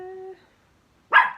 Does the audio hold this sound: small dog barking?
yes